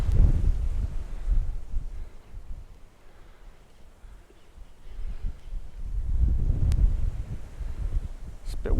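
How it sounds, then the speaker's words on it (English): Gusty wind blowing outdoors during an exercise session, with rumbling buffets against the microphone that rise and fall and swell loudest toward the end, mixed with soft rustling. "It's a bit windy out today."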